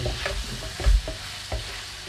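Pork adobo, the white adobong puti style, fries in its own rendered fat. It gives a close, soft crackle, with several stirring knocks and one heavier thump near the middle, and no one speaks.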